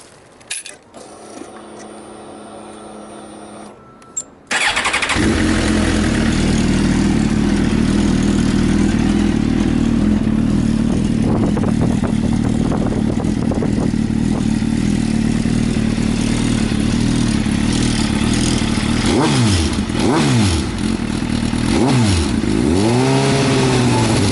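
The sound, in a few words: Suzuki GSX-R 1000 motorcycle engine starting and revving, aftermarket exhaust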